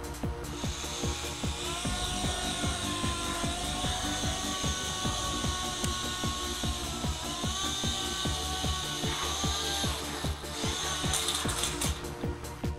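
A micro miniature RC helicopter controlled from an iPhone flies close by, its rotors giving a steady, high whirring hum with small shifts in pitch and no voices.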